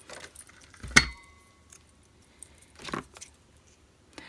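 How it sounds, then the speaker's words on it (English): A classic label punch cuts a happy birthday label from paper: one sharp, close snap-clunk stands out, followed a couple of seconds later by a softer rustling handling noise in a quiet room. "I'm going to take the classic label punch to cut out the happy birthday."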